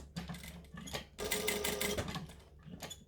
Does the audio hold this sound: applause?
no